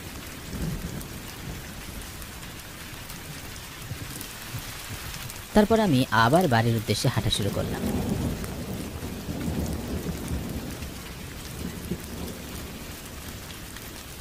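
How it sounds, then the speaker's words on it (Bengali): Cartoon rain and thunder effect: a steady wash of rainfall with a loud crackling thunder roll rising midway and rumbling off, while a narrator speaks over the storm. "ভালো করে তাকিয়ে দেখলাম বৃষ্টি নেমে গেছে।"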